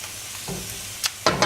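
Imitation crab pieces in a hot pan give a soft sizzle. Sharper bursts of frying follow as the pieces are flipped near the end, heard close up.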